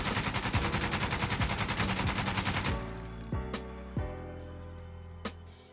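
Alpha AK rifle fitted with a foregrip firing full-auto in Insurgency: Sandstorm, a loud rapid burst of about three seconds followed by a ringing tail and a few scattered clicks and clanks.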